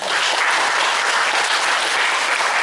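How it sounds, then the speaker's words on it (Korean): Steady, dense audience applause fills a Korean public forum hall after a council member's pledge, many hands clapping loudly and evenly throughout with no voices over it. "박수 한번 쳐주십시오"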